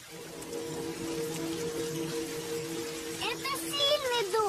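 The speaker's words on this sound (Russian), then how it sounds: "Идет дождик." Steady patter of rain falls throughout, with a hum underneath and a voice speaking near the end.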